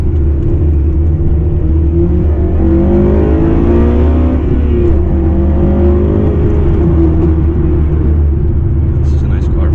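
Honda Civic Type R FN2 engine revving through gears while driving in the wet, a steady loud drone with rising and falling pitch sweeps as it accelerates and downshifts, with a voice talking over it.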